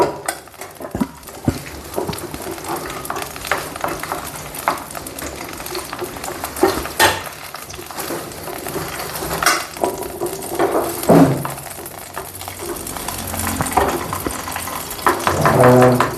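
Ingredients fry in desi ghee while being stirred steadily, a loud continuous sizzle broken by repeated scraping and clattering of a spoon against the pot, close up with no talking.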